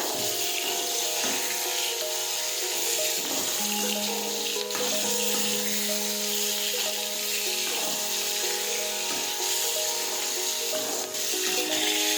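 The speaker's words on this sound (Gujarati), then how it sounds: "આ રીતે આપણે સાતળી લઈશું." Chillies fry in a pan for stuffed chillies: a constant dense sizzle with faint clinks and stirring scrapes, close and steady throughout, with no talking.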